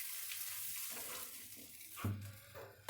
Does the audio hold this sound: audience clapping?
no